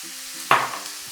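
Green beans, carrots and cabbage being stir-fried in a pan: one short burst of sizzling and tossing rises sharply midway, then fades back into a quiet background.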